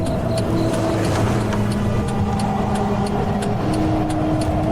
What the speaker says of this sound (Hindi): गाड़ी चर्च के गेट पर रुकती है।